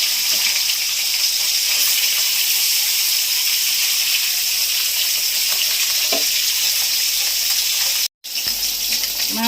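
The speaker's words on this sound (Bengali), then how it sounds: "মাছ ভাজা হয়ে গেছে, তুলে নিচ্ছি" Small fish frying in oil in a pan, a loud, steady hiss and sizzle that runs on evenly, broken by a short gap near the end.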